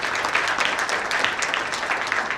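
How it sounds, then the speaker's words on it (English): Steady applause from a crowd, a dense even patter of clapping that holds at the same level throughout. "I think they deserve certainly a big round of applause from all of us"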